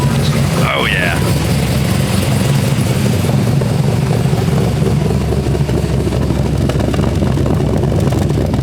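An LS-swapped car engine pulling away, a steady, loud low rumble that holds throughout while people talk over it.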